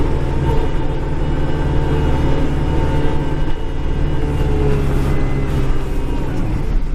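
During snow clearing in winter, an arriving truck produces a loud, close, continuous low rumble with a steady engine drone throughout, and no voices are heard.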